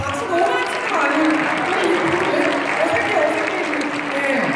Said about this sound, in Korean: 박수를 진짜 많이 쳐주시네.